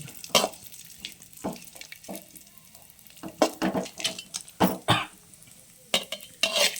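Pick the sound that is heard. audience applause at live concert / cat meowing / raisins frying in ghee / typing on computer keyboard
raisins frying in ghee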